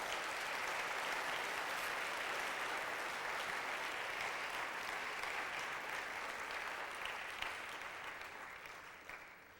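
A church congregation breaks into sustained applause, a dense wash of clapping that holds steady across the room and tapers slightly at the end, with no voices over it.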